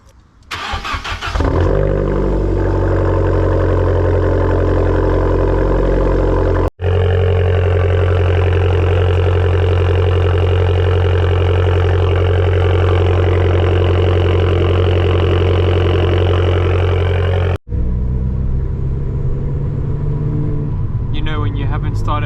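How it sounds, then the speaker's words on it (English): A car engine cold-starting after sitting unused for two days: it catches quickly, then settles into a loud, steady rumbling idle with two brief dropouts, heard up close while a person talks. "We're about to get the coldest of cold starts. This car hasn't been started for 2 days now,"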